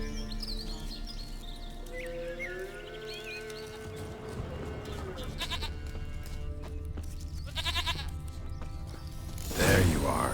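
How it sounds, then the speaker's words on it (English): Goat bleating in The Witcher 3 video game, set in the Velen countryside, with several wavering bleats over game ambience and a louder burst near the end, alongside game character speech. "Here, goat."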